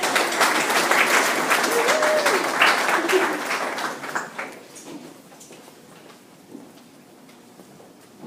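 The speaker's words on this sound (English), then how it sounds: "please give a round of applause for my good friend Raj Nayar" An audience applauds a speaker's introduction, a dense burst of clapping that swells and then tapers off over several seconds into scattered claps and quiet room noise.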